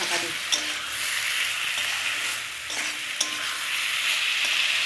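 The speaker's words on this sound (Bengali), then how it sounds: "এবার আমি আস্তে আস্তে গ্যাসটা সিমে দিয়ে এবার কষতে হবে, ঢাকা দিয়ে" Fried potatoes with chilli powder and spices sizzle gently in a pan on a low flame while being stirred, a continuous soft hiss broken by a few sharp clicks of the spoon, close up.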